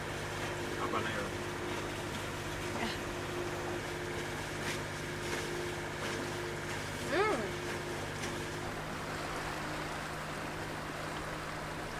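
Steady low drone of a sailboat's engine motoring on calm water with no wind near Sucia Island in the San Juan Islands, continuous and even throughout, with water noise and faint background sounds.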